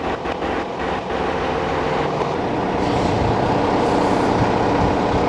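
An MDD5 locomotive, designed and built in Bulgaria, runs on rails with a loud, continuous diesel rumble and rail noise that swells slightly as it moves.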